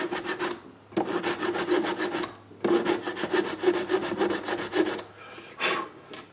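Rhythmic rasping strokes of a file working filler on a wooden mantel clock case, held over metal. Two long runs of steady back-and-forth scraping, close and fairly loud, with brief pauses between them and no talking.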